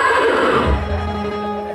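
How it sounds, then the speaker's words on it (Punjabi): A mare neighs loudly and close by at a village fair, one strong whinny that trails off into a lower, fading tail. "ਘੋੜੀ ਆ ਗਏ ਘੋੜੀ"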